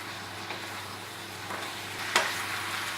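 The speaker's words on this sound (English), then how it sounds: "So I'm going to do a good mix with my veggie and my meat" Boiled spaghetti being stir-fried with vegetables and meat, a steady close sizzle with soft stirring scrapes and one sharper clatter near the end, no voices.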